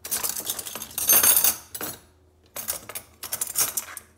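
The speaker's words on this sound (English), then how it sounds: "So the fork and small spoon for guests to eat cake will go here." Metal forks and small cake spoons clink and rattle as they are set into a kitchen drawer, a close run of bright clatters with a brief pause midway before more jangling.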